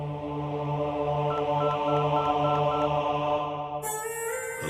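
Touch-tone telephone dialing, a steady series of electronic beeps heard close and alone, ending with a sudden brighter burst as the call connects.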